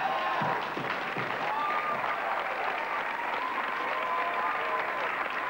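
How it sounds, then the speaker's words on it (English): A live audience on an Australian comedy show claps and cheers, a dense, steady roar of applause with whoops that holds at full strength throughout. "The crowd's going wild."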